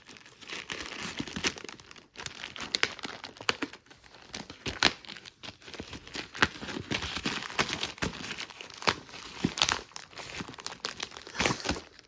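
Black plastic packaging crinkled and rustled close up, a dense run of irregular crackles and crunches lasting throughout with no talking.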